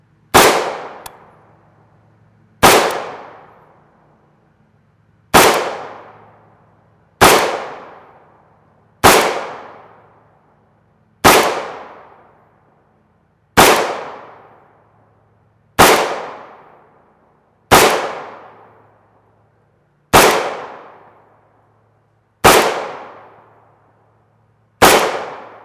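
Eleven loud, sharp gunshots from a Zastava PAP rifle firing steel-case 7.62x39mm ammunition, evenly spaced about two seconds apart, each cracking sharply and then ringing off.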